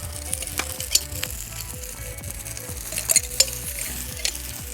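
Tomato paste and onion frying in a cauldron over an open fire, a continuous close sizzle broken by scraping stirs and a few sharp metallic clinks, no voices.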